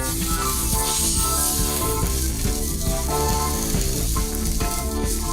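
Salmon roasting and frying slowly over low heat, a constant dense sizzle crackling close up, steady throughout with no talk.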